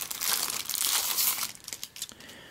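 Plastic packaging around YooQn play money is crinkled and torn open up close, a busy burst of rustling and crackling that tapers into a few scattered crinkles.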